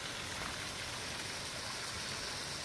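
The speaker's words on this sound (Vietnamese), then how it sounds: "Tên của nó là suối nước nóng Tắc Tố." Water from the Tắc Tố hot spring flows in a soft, even hiss, faint and constant with no breaks or voices over it.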